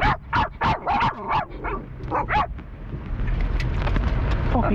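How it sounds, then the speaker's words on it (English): A dog barks in a quick burst of several sharp barks and yips, close and loud, before giving way to steady engine-like background rumble on a boat outing on the Norfolk Broads. "never bark at the ferryman"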